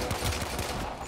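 Rapid bursts of pistol gunfire from the video game Warframe, a dense, loud stream of shots filling the whole short moment with no pause.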